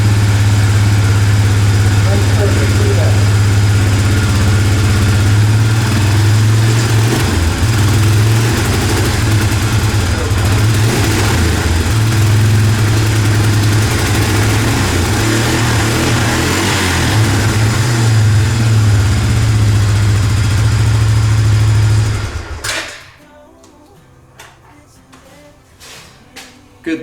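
A small engine, just started, runs and idles steadily and loud up close with a strong low hum for about 22 seconds, then cuts off abruptly into near silence.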